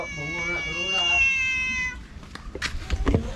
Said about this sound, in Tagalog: Napakaganda naman ang pusa.